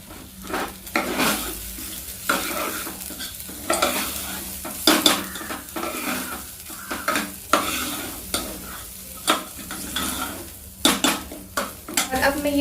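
Rice with chopped carrots is stirred in a pan, a spoon scraping and clanking against metal in a steady rhythm of strokes over a low sizzle, close up and without speech.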